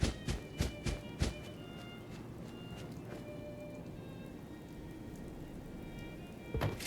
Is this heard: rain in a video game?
yes